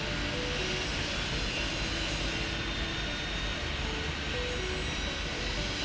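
A mini jet takes off in the Airport Madness airport control game, a steady broadband engine roar holding at even loudness throughout, with no talk over it.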